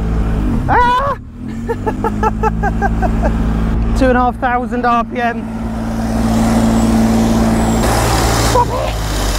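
A 1962 Jaguar engine, revived after sitting for 15 years, holds a loud, steady rev around 2,500 RPM, droning continuously while excited voices shout and exclaim over it.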